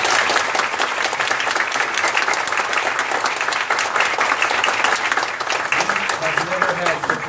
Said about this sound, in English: Can we get a big round of applause for all our candidates?